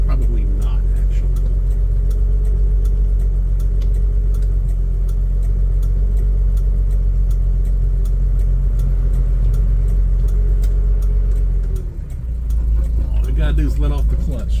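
A Toyota FJ Land Cruiser engine idles low and rumbling as the clutch is let out without throttle and the truck starts rolling, with a steady close drone and one brief dip near the end.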